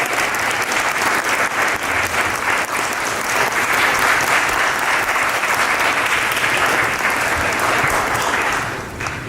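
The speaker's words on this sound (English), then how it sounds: "Can we please give a round of applause for Tamura Lomax?" Loud, sustained clapping from an audience at an MLK Day symposium on theology, a thick continuous roar of hands that tapers off right at the end.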